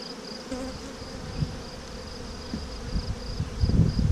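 Honeybees hum in a steady, close drone during a hive inspection, with soft handling bumps and rustles growing louder toward the end.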